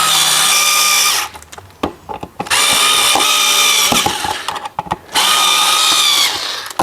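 A power drill whines in three loud, close bursts while tightening screws into a mobile home electrical outlet box, with clicks and handling knocks between the runs.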